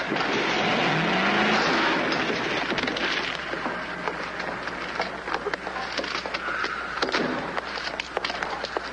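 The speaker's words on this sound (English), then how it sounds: "It's pretty reckless driving." A car driven recklessly in a 1952 comedy film, its engine roaring and revving loudly up close, with squealing, swerving sounds and scattered clatter over about nine seconds.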